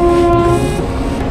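Train on the Araku railway passing directly overhead, loud and close, a steady heavy rumble with a sustained tonal whine, heard alone with no talk.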